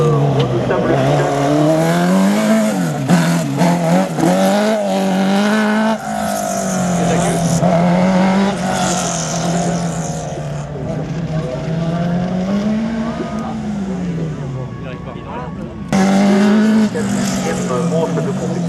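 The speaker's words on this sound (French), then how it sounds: "Orion, cette monoplace jaune qu'on a vu apparaître une saison pour ce redoutable pilote." A yellow Orion single-seater race car at a slalom revs hard and shifts through gears, its loud engine note rising and falling close by, with tire noise and a commentator speaking over it throughout.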